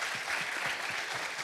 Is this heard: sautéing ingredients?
no